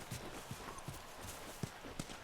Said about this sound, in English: So the horse is going to give us a way to get over those barbed wire fences.